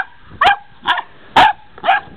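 Four loud, close dog barks, evenly spaced across about two seconds, each a sharp yappy bark with a brief gap before the next.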